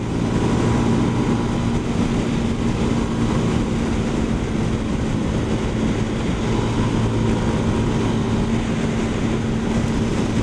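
A CF Moto 300 SR motorcycle, 2022 model, ridden in eco mode, giving a steady continuous engine drone with road and wind rumble at constant level throughout, no speech.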